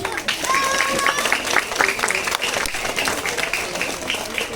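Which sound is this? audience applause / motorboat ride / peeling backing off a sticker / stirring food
audience applause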